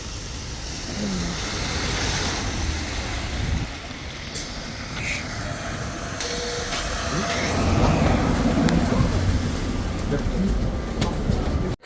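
An OC Transpo city bus pulls up to a stop in Ottawa, its engine rumble and road noise swelling loud and close over a continuous traffic din, with no one talking.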